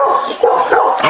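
Dog giving a few quick, sharp barks and yips close by during a tense confrontation, short bursts in rapid succession.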